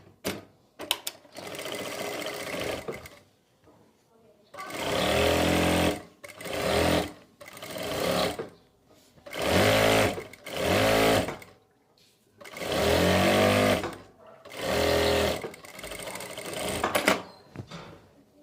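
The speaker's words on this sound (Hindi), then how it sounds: "अब हम इसमें फिटिंग की सिलाई लगाएंगे।" A sewing machine stitches the fitting seam of a kurti in repeated close bursts. Runs of one to two seconds are separated by brief pauses as the fabric is repositioned, with no talk.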